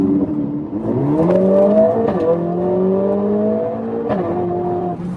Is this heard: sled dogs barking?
no